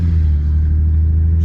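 A Mustang V6 with a Magnaflow Race Series exhaust rumbles deep and loud close by, a steady heavy drone held for the whole moment with no voices over it.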